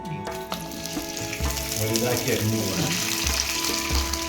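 Cumin seeds and asafoetida frying in hot oil for an okra and tomato masala, a steady close sizzle and crackle running throughout, with brief stirring under it and no talk.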